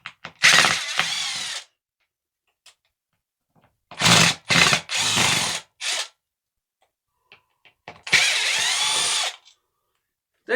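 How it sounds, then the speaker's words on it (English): A power driver fitted with a star bit backs screws out of a ceiling fan mount in several loud, close whirring bursts with short silent pauses between them. "Now I'll take my star wrench, get rid of these."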